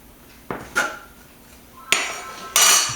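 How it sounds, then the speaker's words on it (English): A metal bench scraper chops through bread dough on a counter, giving four sharp clinking taps against the surface with faint scraping between them. "What I'm using here is called a bench scraper"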